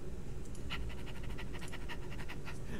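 A friendly pit bull mix pants steadily in quick, rhythmic breaths, close and continuous over a low background rumble.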